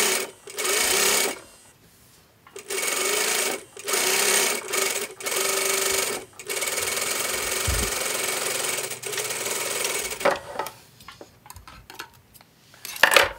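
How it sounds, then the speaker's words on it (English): A sewing machine runs a top stitch in several loud, close bursts of rapid, steady whirring, separated by short pauses, with a long continuous run in the middle. "We are going to make a top stitch."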